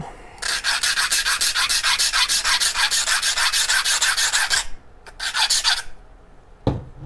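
A metal file rasps against a Mach1 Speed Demon split fin in a long run of fast, even, loud strokes, then a few shorter passes after a pause, close up with no talk.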